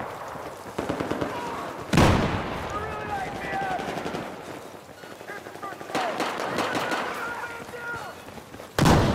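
Gunfire in Battlefield 4 on PS5 crackles in rapid bursts, with sharp louder reports punching through at intervals, while someone talks over the shooting.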